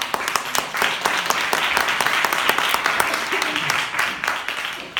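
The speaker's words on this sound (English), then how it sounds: "People really follow your instruction to applaud when they think something is worth applauding" A conference audience breaks into applause, with dense close clapping running throughout and a few voices audible under it.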